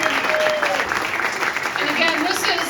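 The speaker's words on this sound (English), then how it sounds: "a round of applause for her efforts" Audience applause at a Gerry's Cafe evening event, a dense, steady wash of clapping that fills the whole stretch, with some talk or cheering mixed into the crowd noise.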